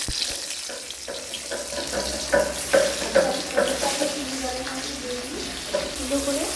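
Paneer cubes frying in white oil in a wok, a steady close sizzle with bubbling and a few louder spits and pops, continuous throughout the clip.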